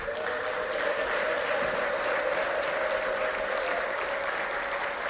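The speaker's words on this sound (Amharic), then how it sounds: "ለዚህ ጌታ እልልታና ጭብጨባ" A church congregation bursts into sustained applause with a high, wavering ululation riding steadily on top, a dense and even wash of sound from start to end.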